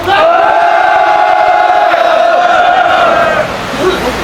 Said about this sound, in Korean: 여러분들의 힘찬 함성으로 시작하겠습니다